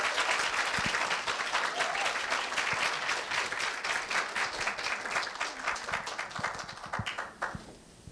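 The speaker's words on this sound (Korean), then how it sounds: "큰 박수로 맞아주십시오." An audience at a middle school speech festival applauds to welcome the student hosts, a full, steady wash of clapping that thins out and tapers off near the end.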